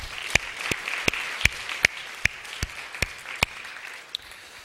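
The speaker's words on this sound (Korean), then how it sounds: "우리 큰 박수로." A sparse congregation in a Korean church sanctuary claps for the orchestra, a thin layer of applause punctuated by one loud, evenly spaced clap close by, roughly every half second.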